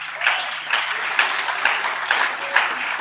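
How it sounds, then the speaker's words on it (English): An audience at the Digital Youth Festival Africa event applauds steadily. The clapping is a dense, continuous wash of many hands at an even level, with no voices heard above it. "A round of applause once again."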